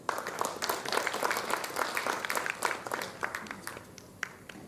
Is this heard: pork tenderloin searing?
no